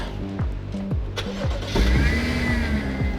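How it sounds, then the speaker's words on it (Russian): A Hyundai car engine, started remotely by mobile app, cranks with a rhythmic starter churn for a couple of seconds, then catches and settles into a steady idle. "сейчас при помощи мобильного приложения мы запускаем двигатель."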